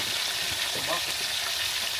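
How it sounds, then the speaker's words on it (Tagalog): Pork chops frying in a pan give a continuous close sizzle and crackle that stays steady throughout. "Piniprito po muna ni Insan yung pork chop"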